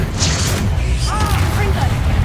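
A Confringo blast spell in Hogwarts Legacy erupts as a deep, loud rumbling boom with crackling debris, accompanied by brief magical whooshing and a short voice cry partway through.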